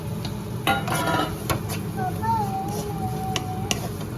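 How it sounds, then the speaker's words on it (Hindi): Grated coconut is roasted in ghee in a kadhai while a spoon stirs it. Soft sizzling sits under repeated scraping and clinks of metal against the pan, with a faint background tone and no clear speech. "इसी कढ़ाई में हमने घी डाला और ये कोकोनट जो हमने कद्दूकस करके रखा था उसको अच्छे से भून लेंगे हल्के से"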